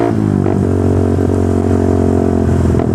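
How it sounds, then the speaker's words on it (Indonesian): A Suzuki Satria Fi150 motorcycle engine with a racing-spec exhaust runs loud and steady with a deep, rumbling exhaust note, rising slightly in a short rev before settling again. "Nanti di depan kayaknya ada spot enak deh buat gue berhenti untuk geber motornya"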